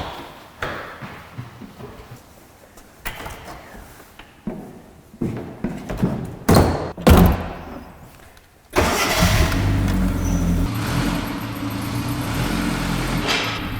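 A classic Mini campervan sets off: clunks and door or handling knocks, then the small engine starts and settles into a loud, steady running drone close by, with no talk.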